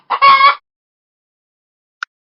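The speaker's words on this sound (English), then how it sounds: "Is for hen." A hen gives one short burst of clucking, close and fairly loud, followed by silence and a brief click.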